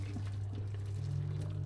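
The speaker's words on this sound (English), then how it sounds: "we're gonna empty out all this water" Cooking water poured out of a pot of boiled potatoes, a soft continuous liquid pour over a low steady hum, fairly quiet.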